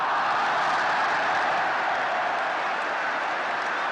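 A large crowd at a 1974 Australia versus England test cricket match applauds a boundary, a broad, continuous roar of clapping and cheering that stays loud and even, heard from a distance.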